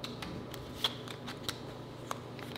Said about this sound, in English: I'm going to do a little bit of shuffle real quick.